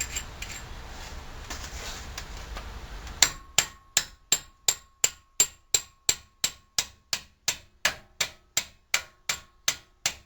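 Steel hammer strikes ring out on a Ford Explorer axle fitted with its retaining nut, about twenty sharp metallic whacks in a steady rhythm, close and loud, after a stretch of quiet background.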